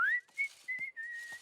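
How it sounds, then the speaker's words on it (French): A cartoon character whistles while working: a clear, fairly loud melodic whistle with rising and held notes, brief breathy gaps between phrases, close and with no talk. "j'adore siffler en travaillant"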